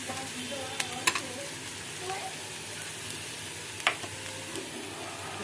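Onion fries quietly in a pan as it turns pinkish, a soft, steady sizzle with a few sharp clicks of a utensil against the pan.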